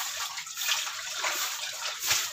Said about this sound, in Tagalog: Hugasan muna natin itong kawali